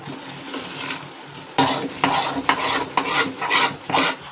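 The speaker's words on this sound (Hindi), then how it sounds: "ये हमारा बेसन धीरे धीरे भुनने लगा है" Besan (gram flour) roasting in a pan for besan laddu, stirred with a spoon: faint sizzling at first, then a steady run of loud, rhythmic scraping strokes about every half second, with no talking.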